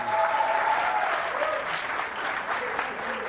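An audience at a Catalan school spelling quiz show, Pica lletres Vallès Occidental 2015, claps steadily for a school team, a dense, sustained round of applause heard alone without voices.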